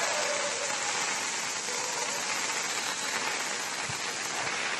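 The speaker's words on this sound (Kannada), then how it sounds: "ಈಗಲೂ ಮಳೆ ಜೋರ್ ಬರ್ತಾ ಇದೆ." Heavy monsoon rain pours steadily onto a road beneath a flyover in Madikeri, Karnataka, a dense, even hiss throughout with no voices.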